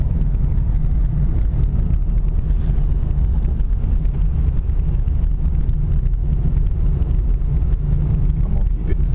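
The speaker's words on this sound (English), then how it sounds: "I'm gonna keep it in second gear all the way so you don't get scared." Car climbing a wet mountain road in second gear, a steady close rumble of engine and tire noise mixed with heavy wind buffeting, with a voice talking over it.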